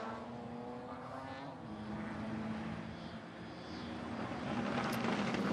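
Race cars circle Mount Panorama at reduced pace behind a safety car during a sports car and sedan race, a steady layered engine drone with a low harmonic hum that swells slightly as cars pass, fairly distant and continuous.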